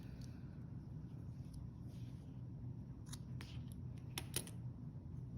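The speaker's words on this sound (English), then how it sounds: "Cut the yarn." Scissors snip through yarn during a crochet project, a few quick, faint, sharp clicks near the end over a low steady background hum.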